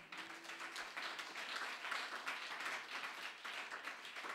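A church congregation applauds the Lord in steady, faint clapping from many hands, an even patter that continues throughout.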